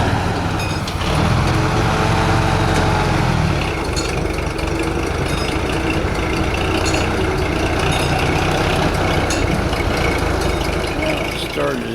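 A rusty 1960 Ford F100 pickup with a badly broken motor mount runs with a loud, continuous engine rumble close by, and people talk over it.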